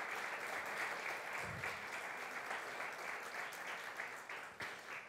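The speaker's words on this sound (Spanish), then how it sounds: "Dale un fuerte aplauso al Señor." Church congregation applauding loudly and steadily, a dense wash of many hands clapping together for several seconds, with a brief voice underneath.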